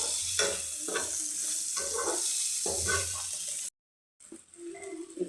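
Curry leaves hit sautéing onions in a pan for a potato dish, giving a continuous close sizzle with rhythmic stirring scrapes, a brief silent gap, then the frying resumes; no voices are present.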